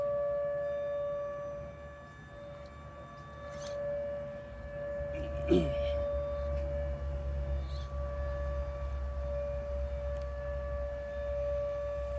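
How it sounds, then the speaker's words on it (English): A steady, droning tornado siren tone holds throughout, sounding distant and sustained, with a brief scraping noise partway through, in Wichita, Kansas. "right as I get it, the tornado sirens come on"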